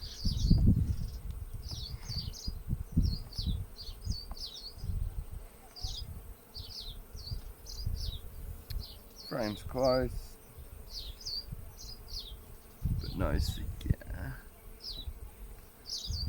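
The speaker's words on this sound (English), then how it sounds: "Bees are dehydrating the honey by fanning it to get the moisture content down" A steady hum of honey bees fanning inside a hive to dry the honey, with a voice speaking briefly over the buzzing now and then.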